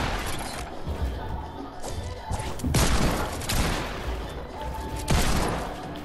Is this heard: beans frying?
no